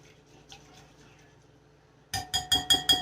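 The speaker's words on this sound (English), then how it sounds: "Get this stirred up like such." A utensil stirring a cashew chicken sauce mixture in a bowl: after near silence, five sharp rhythmic clinks of spoon against the bowl ring out close and clear.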